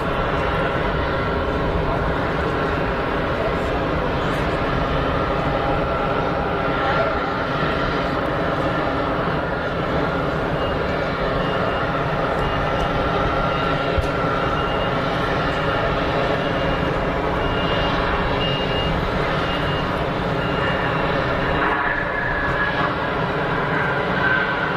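A plane at Geneva Airport gives off a steady, continuous engine roar at moderate distance for the whole stretch, with no other sounds breaking through.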